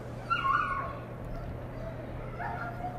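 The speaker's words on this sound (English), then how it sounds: "When I pull up to my house and I don't get out, Jesse starts barking" Several short dog barks and yips ring out early, muffled and somewhat distant as if heard from inside a vehicle, over a steady low engine hum.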